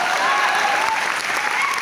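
Steady audience applause, a dense crowd clapping continuously at a motivational talk, close and fairly loud throughout.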